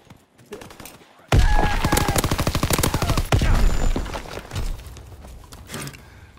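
Sustained machine gun fire in a Call of Duty: WWII battle, rapid rhythmic bursts starting abruptly after a quieter opening and rattling loudly for several seconds before easing into lingering rumble.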